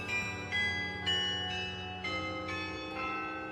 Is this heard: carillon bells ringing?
yes